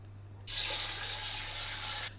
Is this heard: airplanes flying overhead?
no